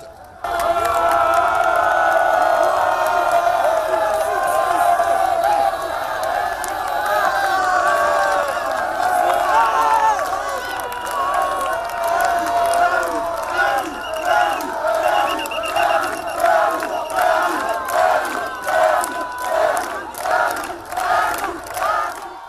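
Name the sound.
tumultuous crowd cheering along presidential motorcade route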